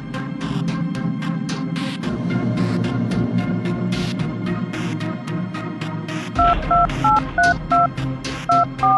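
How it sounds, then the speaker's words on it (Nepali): Telephone keypad dialing tones, a series of short paired beeps pressed in an uneven rhythm over a backdrop of continuous clattering noise and background music. "फोन पो गर्नु पर्ला"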